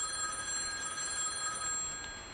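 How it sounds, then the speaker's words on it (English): Telephone bell ringing shrilly in a quiet house at night, a steady sustained high-pitched ring that fades out toward the end. "the phone rang, a shrill, piercing sound in the silence"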